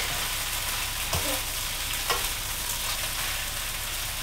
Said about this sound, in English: just keep stirring so everything is mixed together well